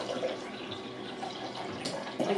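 Homemade vanilla almond milk is poured in a soft, trickling stream, close but faint, with a small splash near the end.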